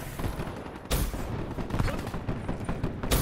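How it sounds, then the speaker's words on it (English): An M8 assault rifle firing in Black Ops 3, loud continuous bursts of gunfire with two sharp, heavier bursts standing out, close and dense throughout. "Three round burst, watch, see, you shoot."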